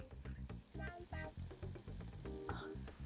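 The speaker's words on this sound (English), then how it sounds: "You can hear that sizzle too." Soft crackling sizzle of BBQ chicken cooking in an air fryer, faint and close, with bursts of popping and some low clatter in the background.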